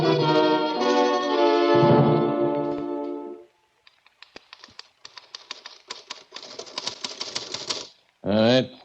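Typewriter keys clatter in quick irregular bursts as a radio drama sound effect for a 1940s mystery, following a stretch of voice and ending with a short loud burst.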